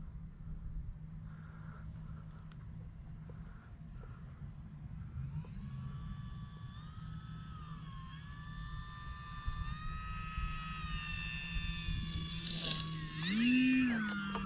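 An E-flite Maule M-7 radio-controlled airplane on 4S power flies overhead, its electric motor whining in rising and falling pitch against faint background noise, then swelling louder as it passes near.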